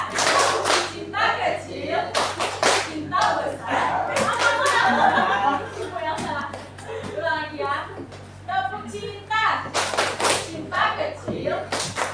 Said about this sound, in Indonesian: Tepuk cinta.